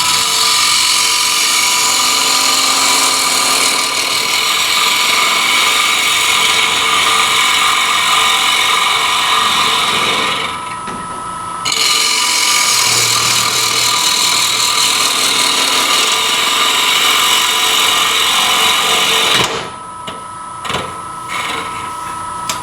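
A wood lathe spins a bowl blank while a bowl gouge cuts it, a loud, steady whirring drone that drops out briefly twice before resuming.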